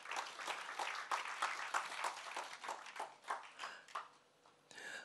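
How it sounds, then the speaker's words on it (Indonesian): A church congregation claps in praise of Jesus, a lively burst of many hands beating in a rough rhythm that thins toward the end. "Tepuk tangan buat Tuhan Yesus."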